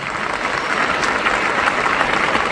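Dense, sustained applause from an audience at a Glaze Trading India company's 20th anniversary event, loud and steady throughout with no break.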